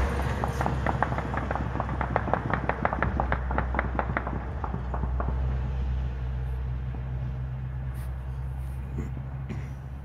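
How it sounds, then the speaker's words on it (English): Rapid bursts of New Year's Eve gunfire crack one after another in the distance in Detroit, dense at first then thinning out, over a steady low rumble. "It's 27 minutes of gunfire."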